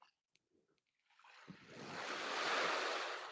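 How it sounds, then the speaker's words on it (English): Ocean waves at a beach on a windy day, faint scattered sounds giving way to a broad wash of surf that swells and holds steady, with wind noise on the microphone. "Can you hear the sound of the waves?"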